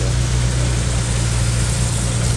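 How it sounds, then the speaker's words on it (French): A large 7-litre engine in a vintage car idles steadily with a deep, low rumble and strong bass throb, close and continuous, with no voices. "Écoutez le bruit du 7 litres, des 8-7 litres."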